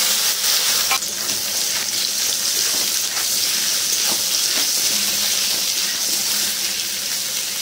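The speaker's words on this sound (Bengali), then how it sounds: "তেলটা গরম হয়ে গেছে, একটুখানি হলুদ দিয়ে দিলাম, ওর মধ্যে কচুগুলো দিয়ে দিলাম" Taro pieces with turmeric fry in hot oil, making a loud, continuous sizzling hiss at close range with scattered pops and crackles throughout.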